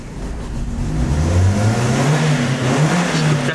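A Fiat Uno engine running and revving, its close, loud drone climbing in pitch and then holding at a raised, slightly uneven idle.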